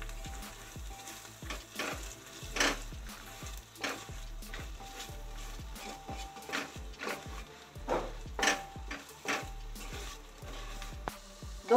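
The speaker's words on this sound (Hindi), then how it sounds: "मसालों को हम कुकर में डाल देंगे। अब इसे 2 मिनट तक फ्राई करेंगे।" Spices sizzle and crackle in a pressure cooker, with rhythmic scraping and stirring knocks repeating steadily over the frying hiss.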